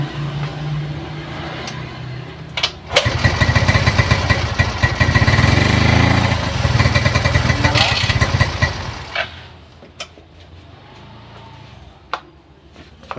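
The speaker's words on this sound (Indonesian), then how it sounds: "kita tes hidupkan ini sepeda motor setelah memakai CDI yang baru." A Yamaha Soul GT motorcycle engine, fitted with a new CDI, cranks and starts, then runs loudly at a rough, revving idle for several seconds before dropping off, with faint voices around it.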